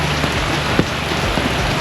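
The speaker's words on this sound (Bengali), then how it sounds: "কালকে রাত থেকে বৃষ্টি, প্রচণ্ড বৃষ্টি হচ্ছে।" Heavy downpour in Langkawi, a loud, unbroken patter of rain striking nearby surfaces, with a few sharper drips standing out and no one talking.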